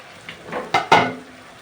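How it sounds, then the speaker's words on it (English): Lid lifted off a pot of coconut beans cooking on the stove, a brief metallic clatter of two quick close knocks followed by a soft fade. "I'll just remove the lid gently, just like that."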